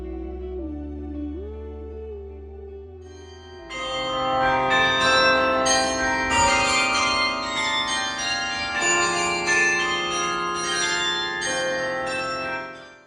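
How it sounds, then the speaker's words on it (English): Church bells of St Nicholas Church ring out loudly and continuously, overlapping peals forming a dense, resonant wash after a quieter tonal lead-in. "And that was the sound of the bells from St Nicholas Church"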